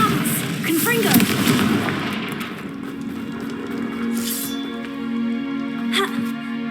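In the Hogwarts Legacy video game, a Confringo explosive spell goes off with a loud burst and rumbling boom, followed by softer magical chimes and a voice.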